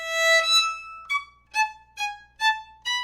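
Violin notes played alone, a long opening tone followed by several short separate bowed notes in a steady, measured rhythm, clear and close.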